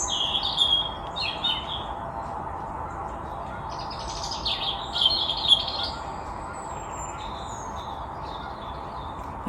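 Several birds sing and chirp outdoors during a nature walk, with bright repeated calls and trills at moderate distance over a steady background hiss, never quite stopping.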